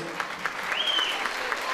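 Audience applause at a village association night in Boyabat, welcoming football players to their seats, a soft, steady patter of many hands heard somewhat at a distance, with a faint tone and a voice in the background.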